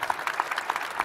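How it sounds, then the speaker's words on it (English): An audience at a defense-policy panel event claps after a discussion, a short burst of dense, moderately loud applause with no talking. "Please, round of applause."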